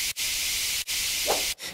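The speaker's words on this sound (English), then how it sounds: "Some white noise." Loud, steady white-noise hiss, a layer in a track, fills the clip, cut by a few sharp gaps, with a faint tonal blip near the end.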